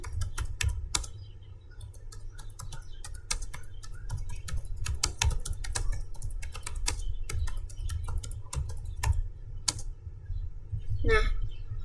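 Rapid typing on a computer keyboard while entering text in Word: dense, irregular key clicks close by, continuing for the whole stretch over a low background rumble.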